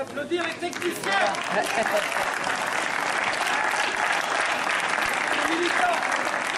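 A hall audience at a politician's speech breaks into loud, dense, sustained applause for the technicians, following a brief voice at the start.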